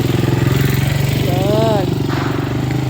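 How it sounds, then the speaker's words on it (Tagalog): Motorcycle engines run steadily and loudly throughout, a continuous nearby drone with a brief rising tone in the middle, on a road lined with large trees. "Yan, may mga motor pa dito mga guys."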